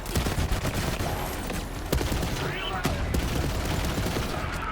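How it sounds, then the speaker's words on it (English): Jakobs gun firing in the shooter game Borderlands 3: a run of sharp gunshots with some crackling impacts over busy game noise, with a voice talking over parts of it. "This is a Jacob's gun. If I get headshots, they ricochet."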